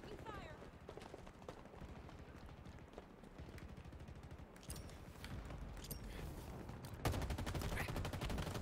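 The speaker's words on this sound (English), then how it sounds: "What the fuck is shooting me?" Rapid gunfire from a Big Team Battle match in the shooter Halo Infinite, with a scout rifle among the weapons: dense repeated shots and bursts, fairly quiet throughout, with a louder, denser spell near the end.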